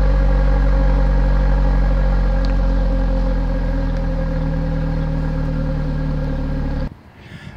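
A 2007 Ford Focus engine idles steadily at the exhaust, a close, loud, even rumble with a low hum that holds for about seven seconds before cutting off abruptly.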